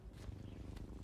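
A tar-covered cat creature purrs in the video game Death Stranding 2: On The Beach, a soft, steady low rumble with a couple of brief rustles, close and quiet with no speech.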